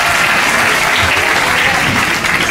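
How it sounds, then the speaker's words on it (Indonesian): Loud, close clapping from a small studio group fills the whole stretch in a steady, even burst. "Tepuk tangan"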